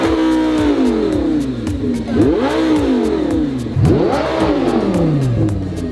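An all-wheel-drive Lamborghini Gallardo LP 560-4 revs hard up close, its engine pitch climbing and falling in about three sharp, rising sweeps over a continuous idle.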